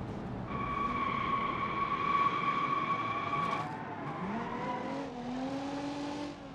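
Car in the BeamNG.drive driving game braking hard on full lock through a corner at a racetrack, a steady engine whine holding, then dropping and rising in pitch as tires scrub, loud and continuous with no talk.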